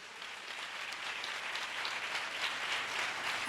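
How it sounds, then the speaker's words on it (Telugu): A church congregation at an Easter Sunday service breaks into applause, the clapping swelling from soft to a full, steady roar that carries on evenly throughout without talk. "చప్పట్లు కొట్టండి."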